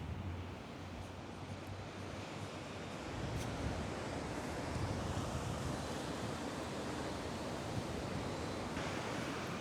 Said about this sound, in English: That south-westerly, a nice surf, loads of ripples coming down.